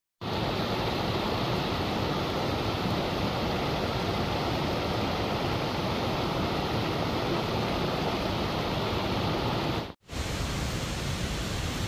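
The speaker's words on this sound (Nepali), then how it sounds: "अहिले चाहिँ हामी 108 धारा झर्नामा आइपुग्यौँ" Steady, loud roar of rushing water at the 108 Dhara waterfall by a temple on a Poon Hill–Annapurna Base Camp trek in Nepal, a continuous broadband wash that cuts out briefly near the end, with no talk.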